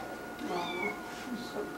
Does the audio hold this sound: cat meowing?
yes